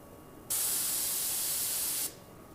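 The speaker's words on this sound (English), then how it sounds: "Now that was air and air only." Airbrush blowing air only with no paint, a steady loud hiss that starts abruptly, holds evenly for about a second and a half, then cuts off, close and alone over faint background noise.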